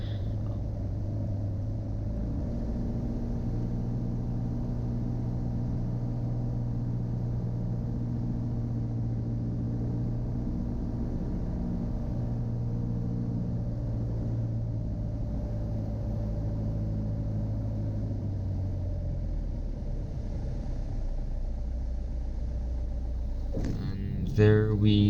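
A light aircraft landing at Thruxton Aerodrome after a flight from Oxford Airport drones steadily with a loud engine hum whose tones slowly drop, ending in a sudden bump and clatter at touchdown.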